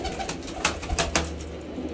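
Pigeons in a breeding loft, including a newly added pair brought from Muktsar Sahib, coo softly and repeatedly in a few close, rounded bursts over a steady background murmur, with no talking.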